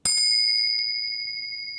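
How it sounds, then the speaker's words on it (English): Two Tibetan bells struck together in a quiet room give a sharp metallic strike and a long, steady ringing tone that slowly fades over nearly two seconds, heard alone. "the Tibetan bells together"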